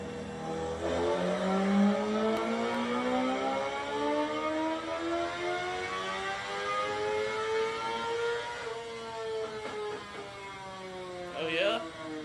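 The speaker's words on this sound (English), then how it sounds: "here's my bike getting dyno tuned" A 750cc motorcycle engine being dyno tuned, making roughly 140 horsepower, holds a loud sustained whining roar that climbs and sweeps in pitch through the revs, then drops near the end.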